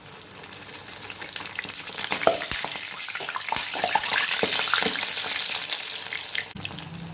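Small sabudana vadas deep-frying in oil over a medium flame, a steady close sizzle with scattered pops and crackles that builds and stays loud through the stretch.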